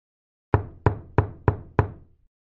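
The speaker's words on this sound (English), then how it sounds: "he heard a knock." Five knocks on a door in an even, unhurried rhythm, crisp and close, with nothing else heard around them.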